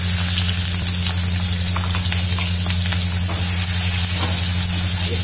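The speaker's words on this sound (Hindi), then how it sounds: "मैंने 3 से 4 बड़े प्याज लिया है उसको बारीक कट करके उसमें हम फ्राई करेंगे" Finely chopped onions frying in oil, a loud, steady sizzle with occasional crackles and soft stirring, over a constant low electrical hum.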